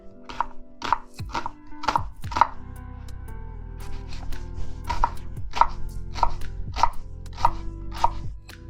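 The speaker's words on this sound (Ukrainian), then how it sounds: "Цибульку ріжемо на кубики" Steady knife chopping an onion into cubes on a cutting board, a dozen or so crisp, evenly spaced thuds with a short pause partway through, close and clear.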